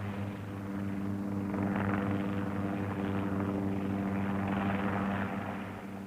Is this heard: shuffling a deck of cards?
no